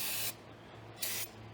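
Parts cleaner sprayed from an aerosol can onto the valve cover area of a 5.9L V8 in a second-generation Dodge Ram 1500: two short, close, hissing bursts with a gap between, no talking.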